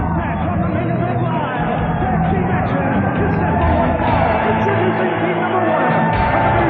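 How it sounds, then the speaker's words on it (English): Sellout arena crowd at a Bayfront Center WCW wrestling event, a loud continuous roar of babble and cheering throughout, with a commentator talking over it. "A jam-packed crowd here at the Bayfront Center. A sellout crowd."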